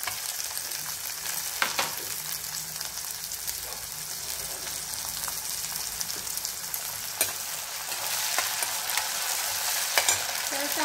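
Finely chopped tomato goes into a pan of frying onion for a Kolhapuri paneer masala, giving a constant close sizzle with light stirring scrapes and a few clatters that grow slightly louder toward the end.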